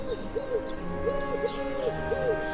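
Collared dove giving a soft, repeated cooing call in a steady rhythmic pattern of hollow notes, moderately close, over faint background noise.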